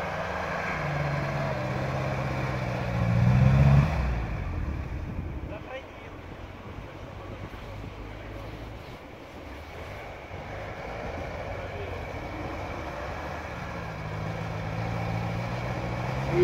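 An off-road vehicle climbing a snowy concrete slope, its engine droning and revving up and down, fairly faint and steady with surges at the start and end, while people talk over it.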